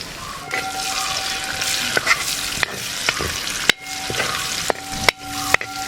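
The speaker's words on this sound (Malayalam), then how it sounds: "വെളുത്തുള്ളി ശരിക്കും വാടി കിട്ടിയിട്ടുണ്ട് എണ്ണയിൽ" Garlic and ginger frying in oil for a tuna fish pickle, a loud close sizzle broken by sharp spoon clinks and stirring scrapes against the pan, no voices.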